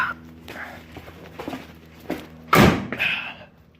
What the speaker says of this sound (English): That door shuts a lot better.